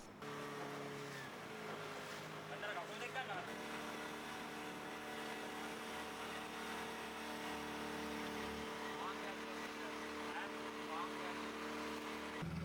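A glass-bottomed boat's engine drones steadily heading out to a coral reef off Sri Lanka, a constant low hum with a slight shift in pitch early on, with wind and water noise around it.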